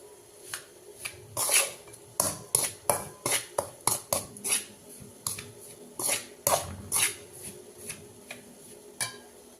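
A spoon clinks and scrapes against a metal vessel while ground idli podi spice powder is stirred, a run of irregular sharp taps and clatters at close range with no talk.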